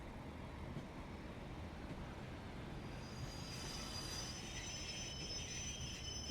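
Pacer diesel train easing to a stop near Royal Lytham in Train Sim World 4, a steady low rumble of wheels and body noise with faint high brake squeal tones rising toward the end, no talking.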